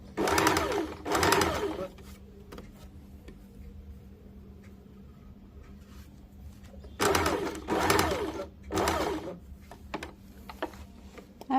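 A sewing machine stitches a bias-cut churidar in four short, loud bursts of rapid needle chatter, with quiet gaps of faint handling between them as the fabric is repositioned.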